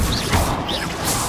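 The Confringo blasting spell from Hogwarts Legacy fires off as one short, loud burst, a crashing whoosh with a bright swishing trail that fades over about a second.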